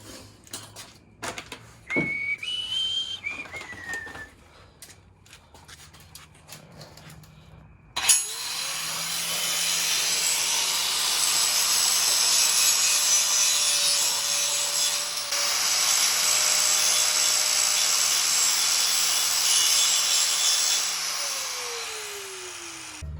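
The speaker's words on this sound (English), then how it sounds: "just grind it out a little more" An angle grinder cuts into a metal cross member on a cradle for a 671 Detroit Diesel, with a long, steady, loud grinding whine after some brief shop noises and a rising tool tone at the start.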